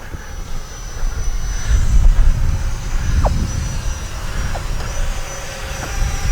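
A small FMS Rafale 64mm electric ducted-fan RC jet, flown without landing gear, whooshing steadily at a distance with a faint high whine over broad outdoor rumble for several seconds.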